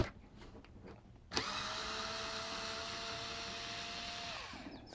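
An electric screwdriver whirs steadily for several seconds while backing screws out of a Liveryman Mustang clipper during a strip-down, starting abruptly after a quieter stretch of faint handling.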